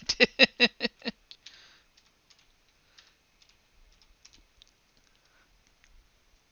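Quick burst of about six sharp clicks on a computer keyboard, close and crisp, followed by a few scattered faint taps and near silence.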